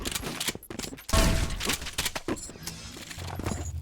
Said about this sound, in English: And now Prodigy taking pot shots with the SSG.